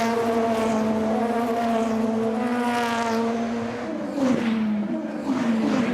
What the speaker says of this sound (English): So the cars scream underneath the bridge on their way out of Stirling's towards Clearways now.